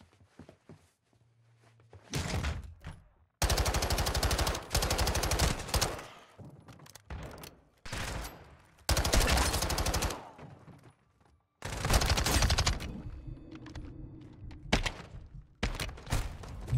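Bursts of machine gun and shotgun fire from Call of Duty: Modern Warfare 2, loud and close, arriving in several separated volleys with short quiet gaps and faint footsteps between them.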